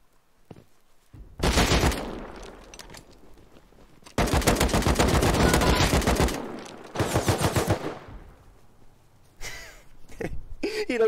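Rapid automatic gunfire in the survival game Rust during a player-versus-player fight, coming in several long loud bursts separated by short pauses, with a voice talking and breathing in the gaps.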